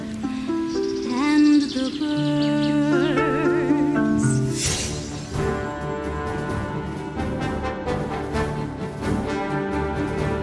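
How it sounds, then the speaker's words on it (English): Birds chirp and whistle among warbling tones early on, followed by busier rustling and scattered clicks, moderately loud. "to the sound of water and the birds."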